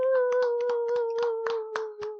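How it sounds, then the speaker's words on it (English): Clapping for the winners of a reality-show competition: about nine crisp, evenly spaced hand claps in a steady rhythm, fairly close, over a constant low hum. "Let's clap it up for them one more time."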